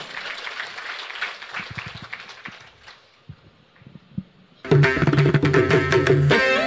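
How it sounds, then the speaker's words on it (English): Light clapping from an audience at a religious gathering, scattered and soft at first, fading, then giving way to a sudden loud burst of music with sustained tones. "Give her a round of applause."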